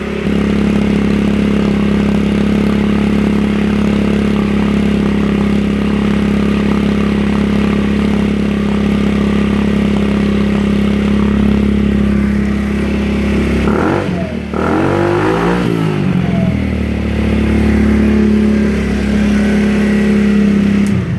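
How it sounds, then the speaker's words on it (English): A 50cc GY6 scooter engine with the exhaust baffle removed idles loudly and raspily, then revs briefly before settling back into a steady, throaty drone. "I'm gonna go ahead and take the baffle out so you can hear without the baffle."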